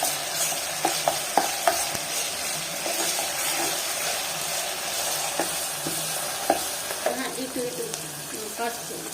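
Ginger-garlic paste frying in a pot for mutton curry, a soft continuous sizzle broken by irregular scraping and tapping from a spoon as it is stirred, close by, with faint background noise.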